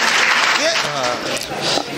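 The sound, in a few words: audience applause at comedy poetry recital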